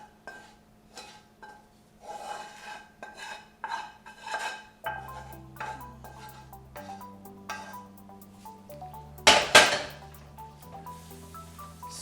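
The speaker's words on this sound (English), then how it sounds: "Stir it all up." Drained homemade pasta being stirred with sauce in a pot, a spoon clanking and scraping repeatedly against the metal at close range, with steady background tones and one louder clatter near the end.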